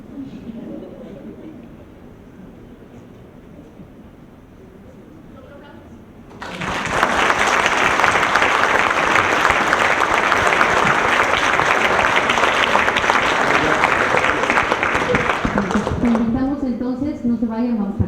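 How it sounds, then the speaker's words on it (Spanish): Audience applause at a legal conference on transparency erupts loudly and holds steady for about ten seconds, following quieter moments with talk, then fades back as talk resumes. "Necesitamos de sus aplausos transparentes."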